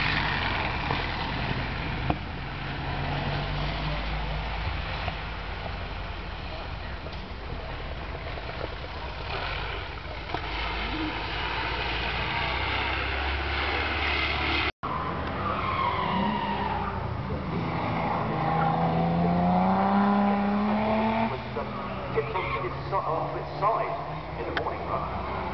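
A supercharged Riley Berlin Special racing car climbs the Prescott hill climb course, its engine note rising and shifting steadily at moderate distance with tyre noise, while a commentator talks over it throughout.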